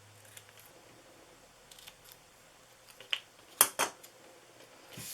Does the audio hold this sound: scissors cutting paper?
yes